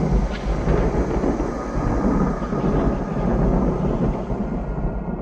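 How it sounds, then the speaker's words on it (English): Heavy rumbling thunder rolls continuously through a scene in a zombie horror film, a deep loud roar that holds steady without pause and no one speaking over it. "You know I don't like thunder."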